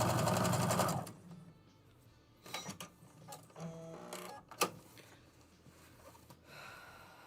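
A quilting sewing machine set to run faster, its motor starting with a loud dense whir that quickly drops to a quieter hum, with clicks, brief rattling bursts and small mechanical sounds following.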